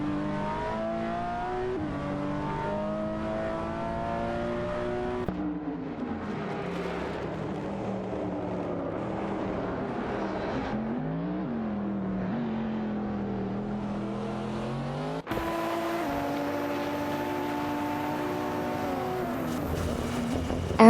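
Pagani Huayra race cars in a racing video game roar continuously with engine notes that rise and fall through gear shifts, one steady loud layer of revving and passing cars throughout.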